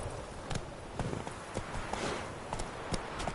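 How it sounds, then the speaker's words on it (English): Horse galloping in The Witcher 3 video game: steady, rhythmic clip-clop of hooves at a brisk pace over a hissy game soundscape, moderately loud and continuous, with no talk. "Hey-ya!"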